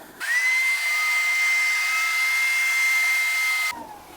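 Loud, steady motor whine of a Hoover Power Scrub Deluxe carpet cleaner running with a high tone as its tank fills, starting abruptly and cutting off near the end.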